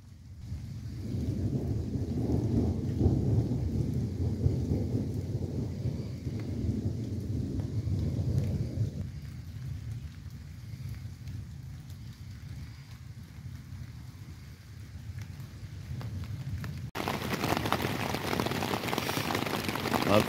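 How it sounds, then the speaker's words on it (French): A night thunderstorm in the Vallée de Chevreuse brings steady rain and deep, rolling thunder, with the downpour sharpening into a harsher hiss toward the end. "bah, il y a de l'orage."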